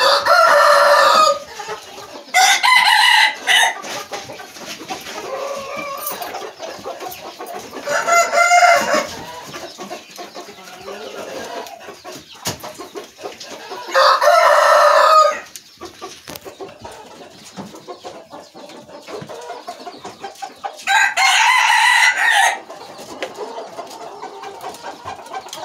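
Chickens cluck and a rooster crows repeatedly, loud and close, in several separate bursts spaced across the recording with quieter farmyard sounds between them.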